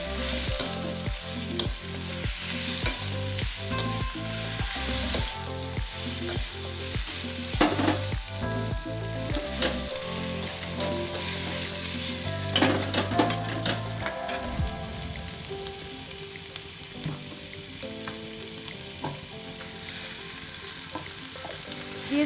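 Peeled prawns marinated in salt, turmeric and chili powder sizzle in a pan, a continuous frying hiss with repeated stirring knocks and scrapes, first in a steady rhythm, then more scattered, with no voices.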